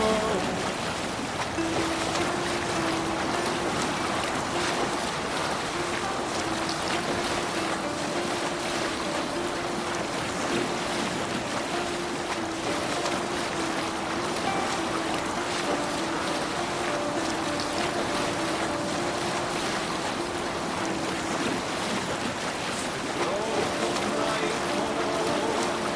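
A sailing ship crossing the waves in Assassin's Creed Valhalla, with a steady rush of water and wind against the hull running throughout while voices sing and call out over it.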